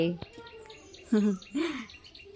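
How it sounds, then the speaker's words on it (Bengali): Birds chirp outdoors after rain, a myna among them, giving short bright calls and twittering phrases close by, with a voice speaking briefly in the background. "ওই দেখ পাখিগুলো এসছে"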